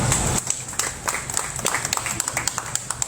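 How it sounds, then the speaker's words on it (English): Scattered applause from a crowd at an outdoor protest in front of an office, with uneven claps over a steady background hiss, fairly distant and thin. "Round of applause."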